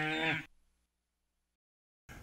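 Dairy cow on a farm giving one loud, close moo lasting about half a second, then near silence before a short burst of further sound at the end.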